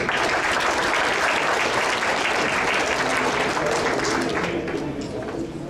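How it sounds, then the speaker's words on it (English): Sustained applause fills a hall at an honoring ceremony for volunteers, a dense, even wash of many hands clapping close by that tapers slightly near the end. "Let's give a round of applause for Lê Xuân Diem."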